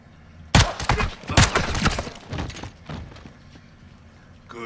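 Gunfire in a Modern Warfare 2 campaign mission: a cluster of sharp, loud bursts crackles over about two seconds, then fades into quieter reverberant noise with faint voices in the background.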